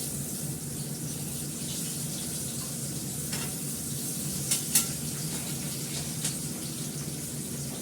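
Pumpkin slices fry in oil with a steady, even hiss that runs throughout, marked by a few faint ticks and pops near the end.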